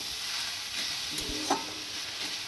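Food being stirred in a pot of home-cooked Bengali lunch, a soft steady sizzle with a few scraping spoon strokes, faint and close, no voices.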